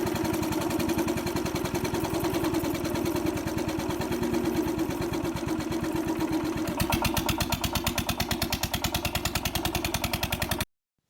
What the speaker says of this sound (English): The Deutz MAH 711 is a classic single-cylinder diesel engine produced by KHD Deutz AG